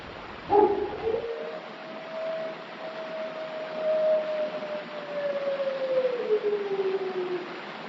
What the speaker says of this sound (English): there's some wolf howls